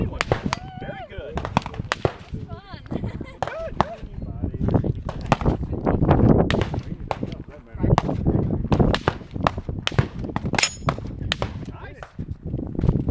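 Gunfire at an outdoor shooting range: sharp, loud shots repeat irregularly across the whole stretch, with people talking between and over them.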